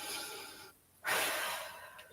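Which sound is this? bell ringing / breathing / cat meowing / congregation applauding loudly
breathing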